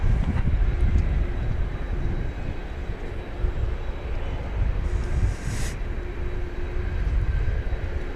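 American Airlines flight 821 taking off from runway 18 left at DFW Airport, a steady broad jet engine roar heard from a distance, continuous and fairly even throughout with no talking.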